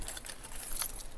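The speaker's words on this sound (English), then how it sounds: "I'm gonna put your keys back in your purse so you don't mind." Keys jangle in a short metallic rattle, close and fairly loud, as they are handled and slipped into a purse during a retail theft arrest.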